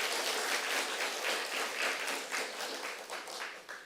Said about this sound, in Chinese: 咱家鼓掌，家鼓励